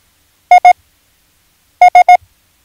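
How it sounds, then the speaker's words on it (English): Morse code letters I and S: two short beeps, a pause, then three more identical beeps, crisp and evenly spaced. "let's see what the letter I and the letter S sound like next to each other"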